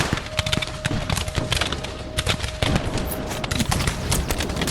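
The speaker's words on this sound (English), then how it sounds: "the Boers ruthlessly target the shallow British trenches with ceaseless barrages of rifle fire" A Boer War battle scene with a dense, ceaseless barrage of rifle fire at British trenches, rapid overlapping shots cracking loud and continuous, with a faint steady tone running beneath.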